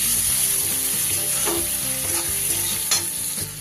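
Chopped onion and green chilies sizzle steadily in hot oil as they are stirred in a pan, the loud frying hiss broken by a few scraping utensil strokes.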